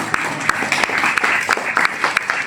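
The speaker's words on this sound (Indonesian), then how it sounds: "Tepuk tangan lagi." Applause from an audience at an Islamic Idul Yatama sermon in Purbalingga, Central Java, Indonesia: a dense, steady wash of many hands clapping with sharper individual claps poking through, moderately loud and without speech.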